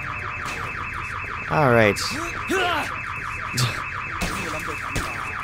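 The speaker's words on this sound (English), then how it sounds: "look at that alarm." A car alarm in the video game Sleeping Dogs blares in a repeating wailing cycle, loud and continuous, while someone speaks briefly over it.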